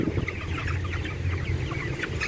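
Chickens clucking throughout a broiler poultry house at harvest age, a dense overlapping chorus of low clucks from many birds nearby.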